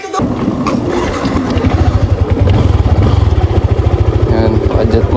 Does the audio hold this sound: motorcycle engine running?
yes